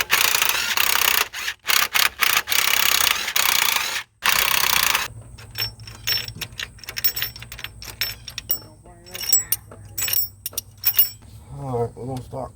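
Hand ratchet clicks while valve covers come off a 1994 Chevy Z71 engine, bursts of fast ratcheting and metallic clinks near the mic, with loud handling noise at first and quieter clicking afterward.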